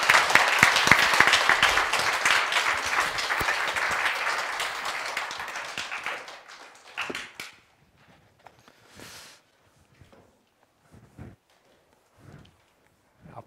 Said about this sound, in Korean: 교수님 나오실 때 여러분들이 환영하는 박수를 열렬하게 보내주셨으면 고맙겠습니다.